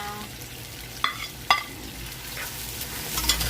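Fish balls and pre-boiled chicken meat drop into a pot of frying noodles with a couple of soft clunks, followed by continuous sizzling and stirring scrapes at close range.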